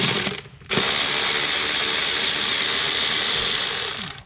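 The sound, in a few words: ratchet removing a 10mm bolt on a Kia Optima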